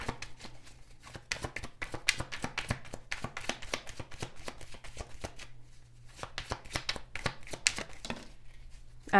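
Tarot cards being shuffled by hand in quick, dense bursts of riffling and slapping, close and fairly quiet, with a brief pause midway and no talk.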